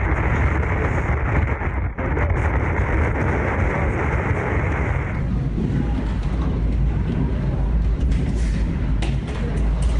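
Hurricane Irma winds roaring through a building garage in Florida, with water getting in everywhere; a loud, constant buffeting rush of wind noise lasting throughout, its gusts surging and easing.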